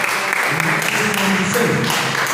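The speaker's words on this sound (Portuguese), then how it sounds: "as palmas engrandecem o nome do Senhor" A church congregation claps during a healing and deliverance service, steady applause running under voices that speak or call out over it.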